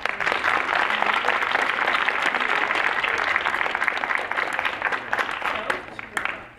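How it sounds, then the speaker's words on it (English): An audience applauds panelists at a discussion event, a dense, steady round of clapping that holds at full strength and then starts to fade near the end. "let's all give a round of applause to our wonderful panelists"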